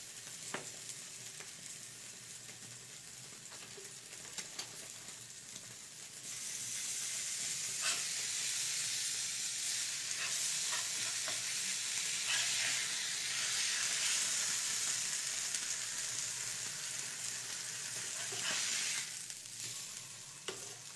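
Paneer frying in butter in a pan for a cheese sandwich, a steady close sizzle that swells louder partway through and holds, with faint stirring scrapes and no voices.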